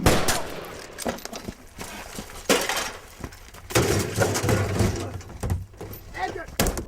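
Gunshots fired by a prowler in a horror movie scene, several sharp bangs with crashing, breaking noises mixed in, heard among loud shouting voices.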